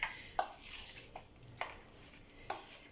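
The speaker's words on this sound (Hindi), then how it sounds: "अब इनको अच्छे से मिक्स कर लेंगे" Chicken being mixed with a prepared masala in a pot, heard as several sharp scraping and clinking stirs at irregular intervals over a soft background hiss, close and fairly quiet.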